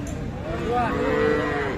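A cow at a rural cattle market lets out one loud, drawn-out moo over busy background noise.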